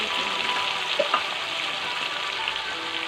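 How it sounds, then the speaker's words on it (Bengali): Rui fish fried village style in hot oil, giving a steady, close sizzling hiss that holds evenly throughout, with no voices. "তেলটা গরম হয়ে এসছে এবার মাছগুলো দিয়ে দেবো"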